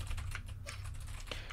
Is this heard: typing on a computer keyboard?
yes